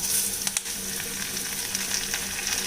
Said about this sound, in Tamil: இப்போ நம்ம நறுக்கி வச்சுருக்க தக்காளி சேர்த்துடலாங்க.